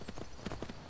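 A horse walking in the Skyrim video game, its hooves making a few soft, quick clip-clops in a brief, quiet moment.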